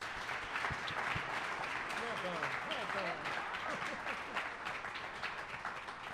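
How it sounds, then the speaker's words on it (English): An audience applauds speakers at a community networking event, with steady, dense clapping filling the room for several seconds and faint voices mixed underneath. "So if we could please get a round of applause for the speakers and for their time."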